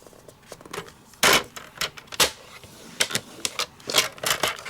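Cardstock being scored with a bone folder or stylus on a scoring board at half-inch and one-inch marks, giving a string of short, dry scraping strokes and taps, fairly close and distinct, with no talk.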